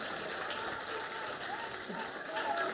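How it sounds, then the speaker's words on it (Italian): Crowd applause at an outdoor political rally in Messina for a Fratelli d'Italia national deputy, steady and broad throughout, with some voices and shouts mixed in and swelling slightly near the end. "Facciamo un grande applauso, deputata nazionale di Fratelli d'Italia."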